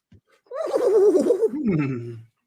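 A person imitates a horse whinny with the voice, producing a loud, close, wavering neigh that rises and then falls into a lower, drawn-out tail before cutting off.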